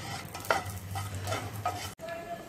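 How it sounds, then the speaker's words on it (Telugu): Charoli nuts and raisins fry in a pan for bread halwa (double ka meetha), a steady sizzle broken by a few sharp stirring scrapes and clinks before cutting off abruptly near the end. "ఇవి కొద్దిగా వేగిన తర్వాత సారపప్పు, కిస్మిస్ను వేసుకుని వేయించుకోవాలి"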